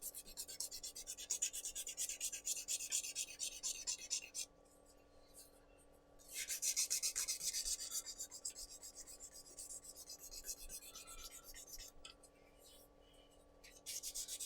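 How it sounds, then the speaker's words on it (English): Rough, coarse sandpaper rubbed by hand over a piece to remove spiral tool marks, making steady close rasping strokes with short pauses between them and a faint continuous hum underneath. "So just using the really rough sandpaper"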